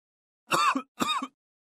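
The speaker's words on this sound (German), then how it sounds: "Toso un poco. Ich huste ein wenig." Two short throat-clearing coughs in a row, close and fairly loud, each with a brief rough tail, then silence.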